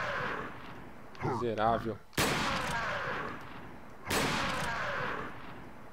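Loud booming gunshots ring out in the video game Resident Evil 4, two heavy blasts with long ringing decay amid game noise, with a brief spoken word in between.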